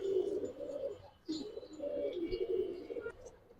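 Giribaz and coloured pigeons coo in a close series of soft, throaty calls with a brief pause partway through, and no one speaks.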